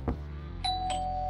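A doorbell rings with a clear two-tone chime, a short strike followed by a sustained ringing tone, close and alone with no talk.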